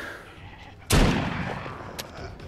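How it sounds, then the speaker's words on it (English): Gunshot in The Walking Dead: Saints & Sinners, one sharp loud crack followed by a decaying echoing tail and a fainter short click moments later, over a quiet background. "Let's practice shooting."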